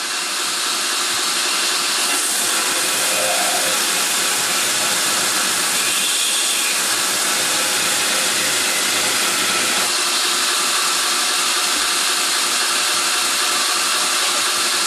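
A belt grinder grinds a chef-style knife blade with a steady, loud, unbroken hiss-like roar that holds at the same level throughout, with no voices.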